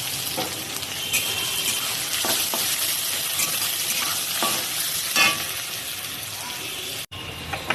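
Onions sizzle steadily in a pan, close and fairly loud, broken by occasional spatula scrapes and knocks, with one abrupt gap near the end.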